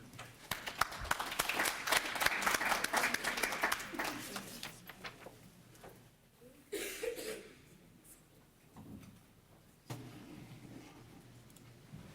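Audience at an education talk on at-risk students applauding to welcome a group of speakers, a dense burst of clapping that fades after a few seconds into scattered coughs and quiet room noise.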